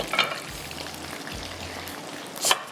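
Cheese balls frying in oil over a slow flame, a soft steady sizzle with a few brief crackling pops, close and without talk.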